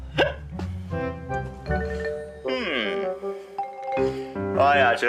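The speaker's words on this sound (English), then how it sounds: "I actually had the hiccups." A cartoon character hiccups amid animated dialogue, with sharp, voiced hiccup bursts breaking up the exaggerated speech.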